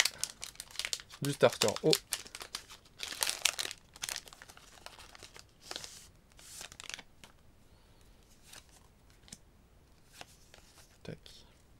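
A foil Pokémon booster pack being torn open, with sharp crinkling bursts early on, then quieter card shuffling and handling while a French-speaking voice talks over it.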